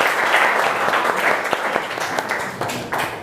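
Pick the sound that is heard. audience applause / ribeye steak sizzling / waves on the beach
audience applause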